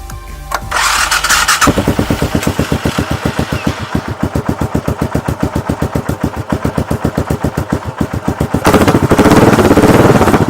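A Suzuki Savage motorcycle with a freshly cleaned carburetor cranks, catches and settles into a loud, steady thumping single-cylinder idle with even rapid pulses, close-up, before a rising rev at the end.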